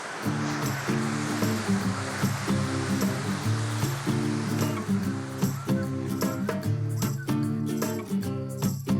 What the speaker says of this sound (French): Ces cascades dévalent les reliefs volcaniques qui entourent la montagne Pelée.